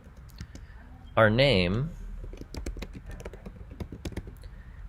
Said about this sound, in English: We will type the date,